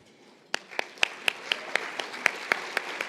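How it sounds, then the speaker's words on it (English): Sparse, spaced claps from a small audience at a PACC911 event, about a dozen distinct hand claps in a loose steady rhythm after a brief quiet start, moderately near and fairly faint. "Would the members of the advisory board please stand and accept our applause?"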